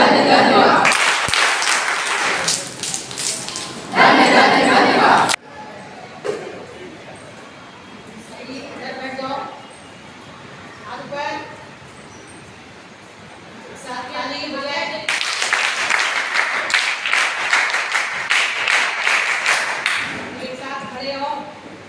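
Audience at a scout initiation ceremony breaks into loud, dense applause in two long bursts, with murmuring talk between them.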